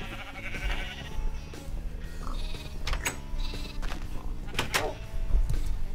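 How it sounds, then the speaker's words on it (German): Sheep bleating in the video game Minecraft, several short bleats scattered across a busy in-game soundscape with thumps and other game noises, some faint talk in the background. "Was gibt denn das für Schafe?"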